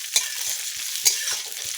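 Drumstick (sajne) stems frying in hot oil in a pan, under a steady bright sizzle with rhythmic stirring scrapes roughly every third of a second, close up and with no voices.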